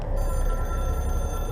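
A telephone rings steadily in the video game Control, a loud, continuous electronic bell tone that sits over a low background hum for the whole moment, with no voice.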